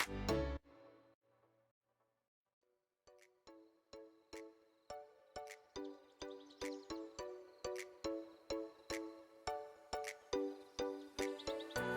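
A phone ringtone plays a repeating chime-like melody of short bright notes in an even steady rhythm, quiet and alone after a brief opening thump.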